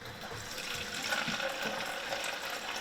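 Tap water running steadily from a faucet, a continuous broadband hiss and splash that stays even and close throughout with no voices.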